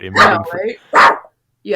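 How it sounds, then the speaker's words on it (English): A pet dog lets out two or three short, sharp barks close by, overlapping with a person talking. "that's my dog barking"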